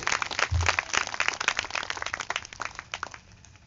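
A church congregation at an outdoor revival meeting claps together, a dense burst of applause that starts loud and gradually thins and fades toward the end.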